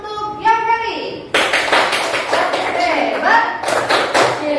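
Primary school class clapping together, a burst of many hands applauding loudly after a sung or spoken prompt, with children's voices mixed in.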